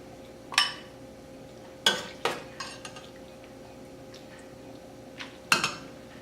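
Food being placed into a bowl while cooking leftover stuffed beef burgers with pasta at home, heard as a few sharp clinks and scrapes of utensil against dish, spaced irregularly with quiet gaps between.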